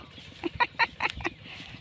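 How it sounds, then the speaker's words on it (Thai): Ducks on a farm in the early morning, a handful of short quacks and clucks in quick succession over quiet outdoor background hiss, moderately close. "พาไปชมเป็ดหน่อยพี่น้อง บรรยากาศยามเช้าๆ"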